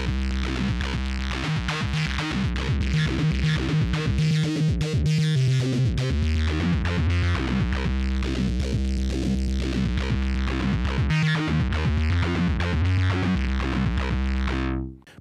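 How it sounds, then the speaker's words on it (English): A distorted Access Virus synth riff through a speaker cabinet effect with a boxy, amp-like guitar tone plays continuously, dense and loud, before stopping abruptly. "it not only helps to make a more authentic guitar amp sound like this"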